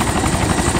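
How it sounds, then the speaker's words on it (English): An AI helicopter flies in during the video game DayZ, its loud, steady rotor chop filling the moment close by with no voices. "There's actually AI choppers here that come in the island and take equipment."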